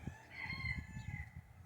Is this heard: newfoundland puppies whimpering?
no